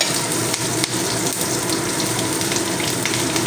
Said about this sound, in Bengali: রুই মাছ তো মাছ ভাজার পরে যে তেলটা আছে ওই অল্প তেলেই রান্না করবে এখানে পাঁচ দিয়েছিলাম আর দিলাম তিনটে কাঁচা লঙ্কা মাঝখান থেকে ছিঁড়ে রাখা